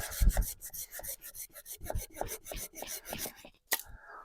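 A hand saw rasps through wood in rapid back-and-forth strokes, a close, gritty rhythmic scraping with a brief pause near the end before one last stroke.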